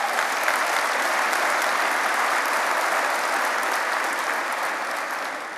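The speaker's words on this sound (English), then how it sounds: "I was hoping you'd clap for that" An audience applauds steadily at the Ontario PC Annual Leader's Dinner in a large Toronto convention hall. Dense, loud clapping runs the whole time and eases off slightly at the end.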